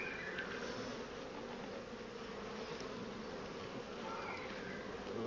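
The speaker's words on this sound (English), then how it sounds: "Lots of bees, and they're really calm actually." Honey bees hum close up at an open hive with frames of drawn comb, a dense, steady buzzing swarm sound that stays even and continuous throughout, with no talking.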